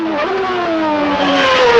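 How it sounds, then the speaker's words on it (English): A 1992 Jordan 192 Formula 1 car's engine screams at high RPM on a racing circuit, loud and close, its harmonic pitch falling steadily as the car brakes hard for a hairpin. "Maximum RPM and heavy braking for the hairpin."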